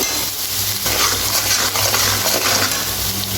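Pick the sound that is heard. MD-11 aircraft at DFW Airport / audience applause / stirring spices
stirring spices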